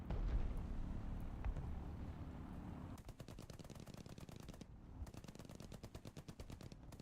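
Zeppelin gunners in the War Thunder game fire machine guns. A low engine rumble comes first, then rapid, evenly spaced bursts of gunfire rattle on continuously to the end.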